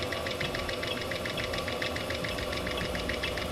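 A Norton Matchless N15 engine bottom end spins at about 400 RPM, giving a steady, close mechanical knocking and whirring with a regular pulsing rhythm throughout.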